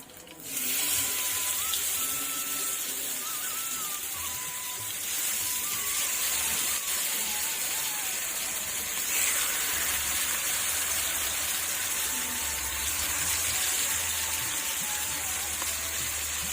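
Marinated fish pieces frying in hot oil for a village-style fish fry, a loud continuous sizzle that bursts up as the pieces go in and then holds steady and bright throughout, with no talk.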